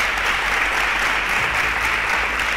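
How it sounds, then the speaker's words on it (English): Dense, even applause from a studio audience at a quiz show, many hands clapping together in a sustained, loud roar with no pause. "A round of applause for her."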